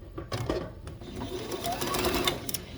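A sewing machine stitches down a quilt block for a pins-and-pincushion pattern, running steadily and close for the whole stretch with no talk over it.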